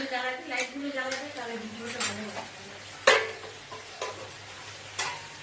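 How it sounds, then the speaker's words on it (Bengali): Khichuri is stirred in a pot, with a ladle scraping and clinking against the metal over soft cooking noise and one sharper knock midway. A voice is heard briefly near the start. "এই যে মামি খিচুড়ি রান্না করছে এদিকে, অলমোস্ট রেডি হয়ে গেছে।"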